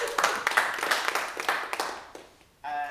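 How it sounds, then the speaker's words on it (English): A small group applauds the winner of a parlour game, with moderately loud, uneven clapping that tapers off, and a voice comes in at the end. "Give him a round of applause"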